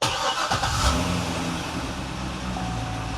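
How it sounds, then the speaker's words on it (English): A car engine catches with a short cranking burst, then settles into a steady, even idle hum that holds close and constant for the rest of the moment. "Time to start the car and let it idle for 15 minutes."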